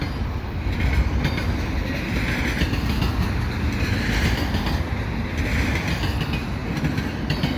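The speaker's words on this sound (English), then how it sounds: "I got a double stack train here at Dorval" Close by, a CN intermodal double-stack freight train of mostly empty cars rolls through Dorval, Montreal: a steady, loud rumble with rhythmic wheel clatter and faint squeal, and no talk over it.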